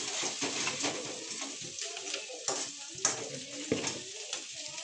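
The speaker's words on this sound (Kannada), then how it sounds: "ಶುಂಠಿ ಬೆಳ್ಳುಳ್ಳಿ ಪೇಸ್ಟ್ ಹಾಕಿತ್ತು. ಅದು ಫ್ರೈ ಮಾಡಿ ಜಜ್ಕೊಡು." Ginger garlic paste fries in a pan, a soft sizzle broken by stirring scrapes and clinks, with a bird cooing faintly in the background.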